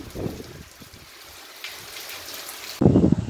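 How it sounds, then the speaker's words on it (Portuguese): Rain falling with a bit of wind, recorded outdoors in Brazil's Northeast, a steady broadband hiss broken by low gusty rumbles, with a louder close gust near the end; no talking. "Tem um pouquinho de vento nessa chuva."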